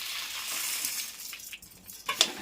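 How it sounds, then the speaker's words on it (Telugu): Lentils, dried red chillies, coriander seeds and peanuts frying in oil in a pan, a faint soft sizzle with light stirring scrapes and a few small clinks toward the end. "చూసారా, ఇవన్నీ బాగా వేగుతున్నాయి."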